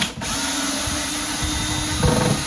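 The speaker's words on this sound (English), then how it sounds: "So you pre-drill and countersink this way." A power drill pre-drilling and countersinking a wall cabinet whirs steadily at close range, its motor pitch shifting slightly as it bites in near the end.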